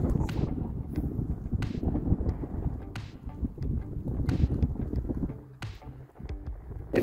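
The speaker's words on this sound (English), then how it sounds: "It's beautiful and it's windy." Wind gusting across an open river crossing in Poudre Canyon, Colorado, a steady rushing roar with loud microphone buffeting and a few sharp knocks, no talking.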